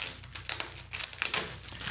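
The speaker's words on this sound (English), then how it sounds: "Now we have the print wrapped in a plastic bag here as well." Plastic bag wrapped around an Aluminyze metal print crinkles in close, irregular bursts of rustling, loud and up front with no talking.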